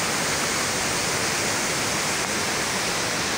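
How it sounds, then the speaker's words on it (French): Cascade d'Ars, a series of three waterfalls dropping about 150 metres, roars steadily in the rain as a loud, unbroken wash of falling water with no voices. "les chutes d'Ars sous la pluie, ça ressemble à ça"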